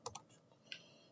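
A few quick keystrokes on a computer keyboard as a website address is entered, two clustered clicks then a single later tap, light and close with no talking.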